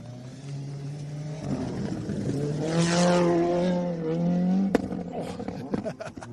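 Rally car on a forest stage at the Rally of Canberra, engine note rising as it approaches at speed, peaking loudly mid-way and then dropping off into crackles and pops as it passes.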